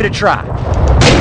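A single rifle shot aimed at helmets in Call of Duty: Roads to Victory, a loud close burst near the end, following a short spoken line.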